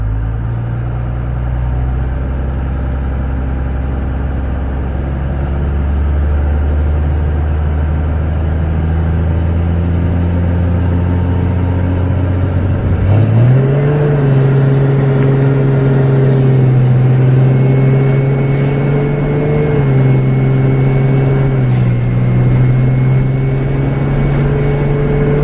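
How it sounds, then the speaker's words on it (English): A Cummins diesel truck idles with a steady low rumble, then launches hard around the midpoint, its engine note jumping up as the turbo spools into a rising whistle; loud, close and continuous, with no talking. "let's do a boosted launch"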